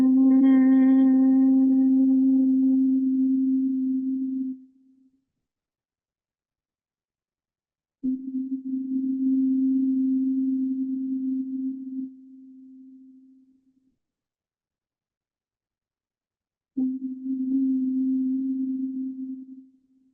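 Three long humming exhales of bhramari, humming bee breath in yoga, each a steady low buzzing tone lasting several seconds, separated by silent inhales, close and alone.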